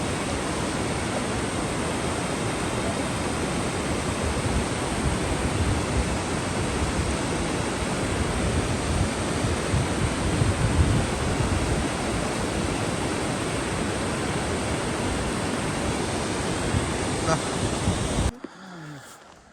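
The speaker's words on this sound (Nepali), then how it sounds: "खोला क्रसिङ हुँदैछ।" River water rushes loudly and steadily during a river crossing on a mountain trip, a dense, unbroken roar that runs for most of the span and then cuts off abruptly near the end.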